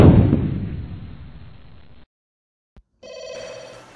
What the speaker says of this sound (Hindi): एक मिनट डॉक्टर का फोन आ रहा है